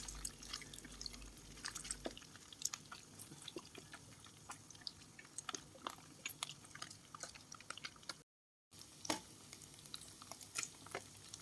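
Pork fat frying in a pan to render lard, a steady low crackle with scattered sharp pops and drips throughout, fairly faint, with a brief dropout near the end.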